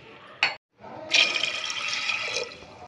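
Water poured into a pressure cooker holding chickpeas: a short splash, a brief pause, then a steady close gushing fill lasting about two seconds.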